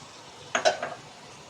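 A short burst of scraping and clinking as chicken biryani ingredients, including tamarind pulp, are stirred and mixed in a pot, a couple of quick strokes, then quiet.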